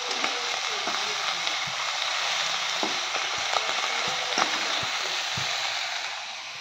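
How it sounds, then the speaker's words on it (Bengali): Fish fry in a pan on a home stove, a steady bright sizzle of hot oil with occasional small clicks and taps, close and fairly loud, with a faint voice at times. "মাছগুলো ভেজে নিই"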